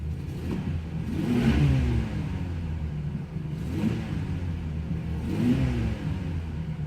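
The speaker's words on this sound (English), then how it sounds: "Bit of a leak somewhere for the exhaust, but it doesn't sound bad. We'll rev it up a little bit." A 1983 Buick Park Avenue engine with an exhaust leak is revved three times, each rev swelling into a rising roar and then dropping back to a rough, rumbling idle.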